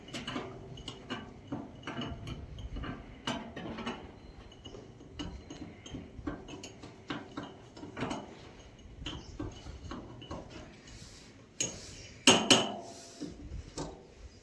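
A spoon mixing powder and salt in a dish makes repeated light metallic clinks and scrapes at close range, uneven and fairly quiet, with a sharper burst of clatter near the end.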